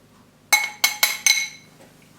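Four quick bright clinks of a spoon against a glass blender jar ring out while flour is spooned in for a chocolate cake, close and distinct over a quiet background.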